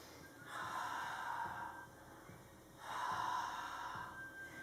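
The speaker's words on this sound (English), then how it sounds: "when you want your breath to steam the window, you go. So it's a ha sound." A slow, open-mouthed 'ha' exhale like fogging up a window, done twice in a children's breathing class; each breath is a soft, airy whoosh lasting over a second, close and alone in a quiet room.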